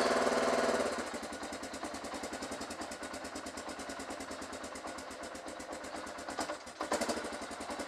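A motorcycle engine catches after a starter whir, then settles into a steady, rhythmic idle with a loping pulse, close and fairly quiet, briefly rising near the end.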